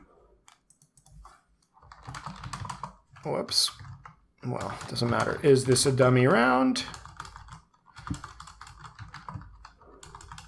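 Typing on a computer keyboard during a live quiz game, with bursts of clicking keys that alternate with someone talking.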